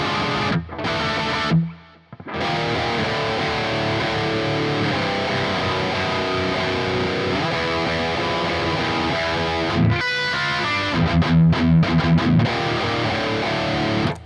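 Distorted electric guitar plays a sludgy chord riff, a heavy sustained riff with a couple of short breaks and a choppier closing phrase, loud and close with no voices.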